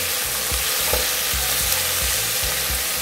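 Beef rib pieces searing in a pan, a constant loud sizzle and hiss with rhythmic low scraping knocks as the pieces are stirred and turned, close up, no talking.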